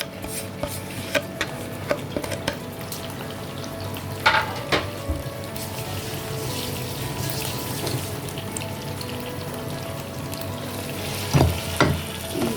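Potato and aubergine with green chillies, crushed and ground red chilli, turmeric and salt sizzle in a pan while being stirred, giving a continuous close frying hiss broken by scattered spoon scrapes and knocks against the pan.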